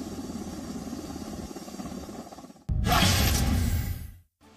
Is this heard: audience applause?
no